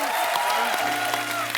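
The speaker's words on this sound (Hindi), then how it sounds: "एक बार सुनिधि और हितेश के लिए जोरदार तालियां" A studio audience at a comedy talk show applauds loudly and continuously, with music and voices running through the clapping.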